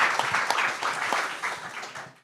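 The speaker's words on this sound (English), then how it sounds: "Quick round of applause for Michael Klein." Audience applause rings out after a guest is introduced at a panel about athlete media entrepreneurs, a short, dense round of clapping that fades away over about two seconds.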